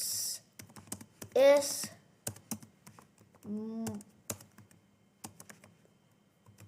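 Computer keyboard typing while writing Python code, scattered short clicks in irregular bursts, fairly close, with a voice speaking in between.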